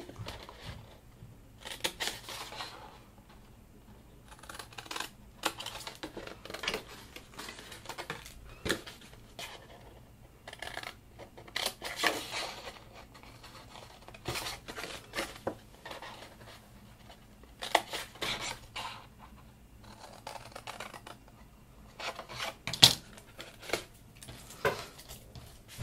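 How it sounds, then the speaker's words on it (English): Scissors snip out the corners of folded paper for an origami gift bag: sparse, crisp cutting clicks in short bursts separated by pauses, close and fairly quiet over a faint low hum, with no talking. "you need to cut these intersections out at the corners"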